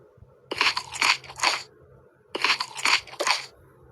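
Two bursts of crunchy cartoon chewing, each made of three quick bites, come from a character eating food in a Toca Boca game, crisp and close, with short pauses between.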